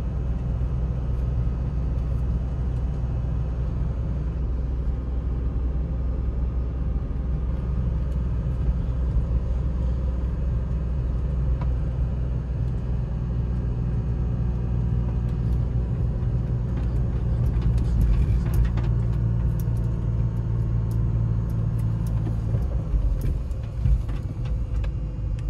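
A BMW E46 M3 engine idles steadily with a low, continuous rumble and an even, unchanging drone throughout, heard up close with no talking over it.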